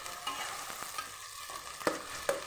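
Onions frying in overheated oil for an aloo degi korma masala, a soft steady sizzle with a few sharp stirring clinks and spatters close by, no talk.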